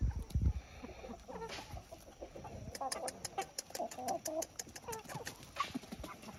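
Carijó-descended young chickens cluck and peep continuously at close range, a busy flock chattering with a scratchy rhythm and occasional louder calls.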